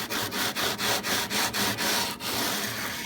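Steady back-and-forth rasping of sandpaper on wood, about a dozen even strokes in a quick rhythm, close and fairly loud with no talking.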